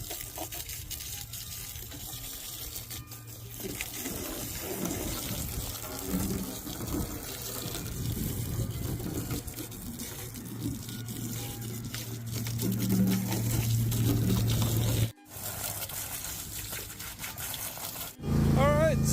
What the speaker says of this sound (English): Alright, so we got the water going.